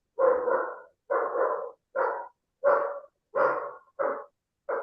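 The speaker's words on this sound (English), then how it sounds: "Is that your dog, Kumar?" A dog barks seven times in short, loud, evenly spaced bursts, each bark followed by a brief silence.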